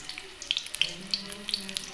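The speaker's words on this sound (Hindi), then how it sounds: "बैंगन मैंने इसी तरह थोड़े थोड़े करके फ्राई कर लेने हैं" Brinjal pieces frying in hot oil in a wok, faint patter of irregular pops and spits over a quiet bed.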